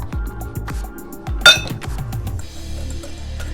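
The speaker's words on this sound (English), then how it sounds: "I'm going to add in about a teaspoon of vanilla. This is half, so that makes 1. And I'm going to whisk" Whisk clinks and scrapes against a bowl of pancake batter with vanilla, a quick irregular run of close kitchen clatter with one sharp knock midway, then a steadier soft mixing.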